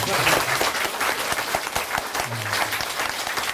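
Loud, close audience applause at a Korean author talk with a Buddhist monk, dense rapid clapping from a crowd sustained throughout with some murmuring voices underneath.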